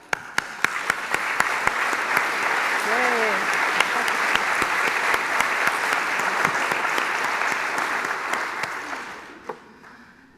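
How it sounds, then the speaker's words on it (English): Sustained audience applause at a fall welcome address, honoring nursing students as they stand; steady dense clapping with a few cheers and a brief shout, lasting about nine seconds before fading. "will you please stand and accept our applause?"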